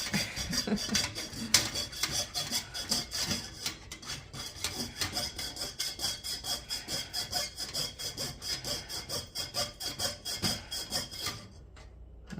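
Coping saw piercing a large six-inch copper dime, rapid rhythmic back-and-forth strokes with a rasping, slightly squealing bite, close and steady before stopping just before the end.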